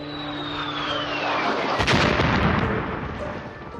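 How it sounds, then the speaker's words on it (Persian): A heavy blast from a US air strike erupts over Kabul near the central bank in November 2001. A single loud, booming explosion follows a thin falling whine, then a long rumbling decay fills the rest of the clip. "انفجارهای پی در پی بانک مرکزی را احاطه کرده است"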